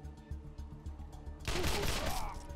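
Burst-shot gunfire in the video game Wasteland 2 breaks out as a dense, loud volley after rhythmic game music, then keeps rattling steadily until the end.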